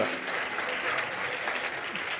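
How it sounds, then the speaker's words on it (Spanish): Applause for the panelists at a business forum, a continuous patter of clapping from the audience with a faint voice briefly underneath. "Un aplauso para ellos."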